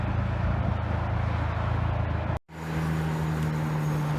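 Freeway traffic rushing past a car stopped on the shoulder with a debeaded tire: a loud, constant roar of vehicles that cuts out briefly, then resumes with a steady low hum.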